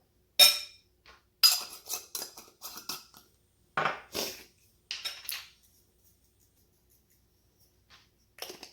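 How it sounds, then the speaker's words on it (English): Seasoning is sprinkled and shaken into coconut shreds in a home kitchen, a series of short crisp rattling shakes in clusters separated by quiet pauses. "Let me just sprinkle some of this in here."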